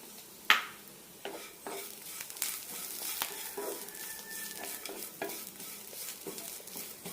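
Grated coconut frying with curry leaves and chopped shallots in a pan for potato curry, with a soft steady sizzle under repeated scraping strokes of a spoon against the pan and a sharp clink near the start.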